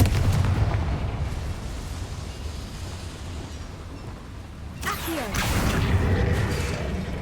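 A Confringo fire spell blasts in Hogwarts Legacy, with rumbling, crackling low booms running through the clip and a sharp bright burst near the end, loud and close.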